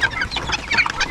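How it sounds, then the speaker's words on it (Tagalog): Young guinea fowl keets and chickens on a small farm chirp and cluck together in a dense, close chorus of overlapping calls, with no talking. "Ito yung first batch sa ating mga ginya na sisiw."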